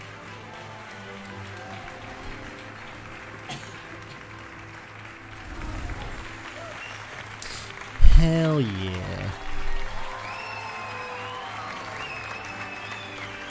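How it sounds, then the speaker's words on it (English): A crowd in the video game Hogwarts Legacy cheers and applauds, with a sharp burst of clapping and shouts around the middle that then tapers off, under music and someone talking. "Everyone's cheering."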